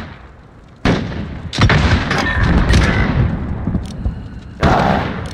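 Grenade explosions in Call of Duty: Modern Warfare (2019), search and destroy on PC: three loud, sharp booms in quick succession, each trailing into rumble and debris noise.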